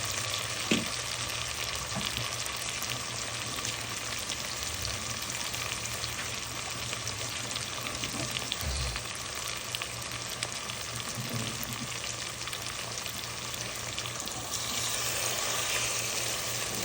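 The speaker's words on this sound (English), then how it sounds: "Add some hot water to that so it can boil." Water hits a hot pan of sardines and sizzles steadily, a loud continuous hiss that carries on with a few faint knocks and clinks.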